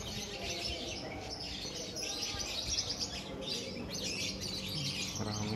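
Birds chirp and tweet on a Jakarta street in Cilandak, bursts of high, bright calls repeating over a steady background of traffic hum.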